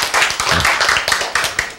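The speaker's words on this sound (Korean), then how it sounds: "박수." A short burst of audience applause during a Korean Bible lecture, with brisk overlapping hand claps that are close and loud and fill under two seconds.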